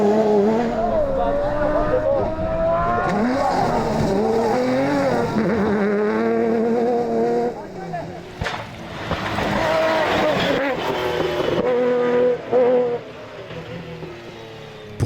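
Fouquet Nissan rally car racing up the Madeleine climb, its engine loud and close with rising and falling revs through gear changes and brief tire squeal, a voice talking over it.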